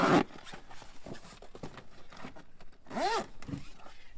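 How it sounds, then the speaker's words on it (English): A zipper on a truck topper cover drawn closed in short, quiet ripping pulls spread across a few seconds, with light fabric handling and soft knocks in between. "we can go ahead and pull this cover up and zip it to the back."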